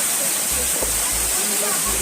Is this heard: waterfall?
yes